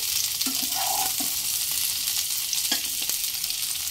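Squared pieces of onion and capsicum sizzle in a kadai, a continuous close frying hiss broken by a few light spoon taps and stirs before cutting off abruptly.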